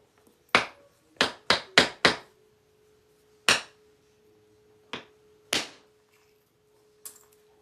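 Sharp hammer blows striking a fine metal punch, eight distinct strikes: a quick cluster of four near the start, then isolated hits spaced out, each close and loud with a quick ringing decay over a faint steady hum.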